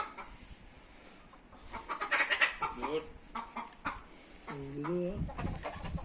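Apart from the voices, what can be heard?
Indian game (Aseel) roosters and hens clucking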